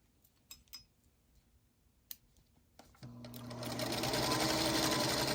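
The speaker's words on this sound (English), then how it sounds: "And then I just finish sewing that seam." A sewing machine stitches a quilt block seam, starting after a few light handling taps and settling into a steady, close, loud whirring run for the last two seconds.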